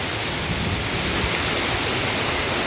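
A small waterfall at Back Creek Falls, Beechmont, Queensland, spills into a swimming hole, giving a steady, dense rush of falling water with no pauses or voices.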